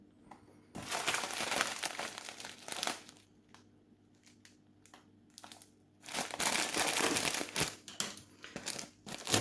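Someone opens a 100 g package of loose-leaf black tea with bergamot, making close, crisp crinkling and crackling in two long bursts separated by a quieter stretch of scattered rustles, with no speech.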